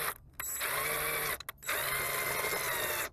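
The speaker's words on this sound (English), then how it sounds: "We'll put the screw in." A power drill drives a screw into a wooden squirrel feeder in two steady whirring bursts separated by a short pause, close and fairly loud.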